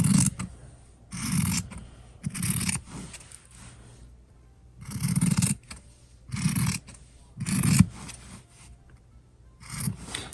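Scissors snip through fabric while trimming around a homemade table topper, in several short rasping bursts spaced by pauses, close and fairly clear.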